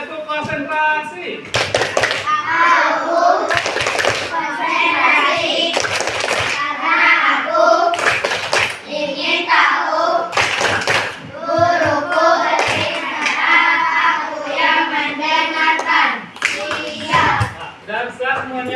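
Children in a classroom clap together in a rhythmic clapping game, bursts of hand claps in patterned runs mixed with loud chanting voices throughout, close and lively.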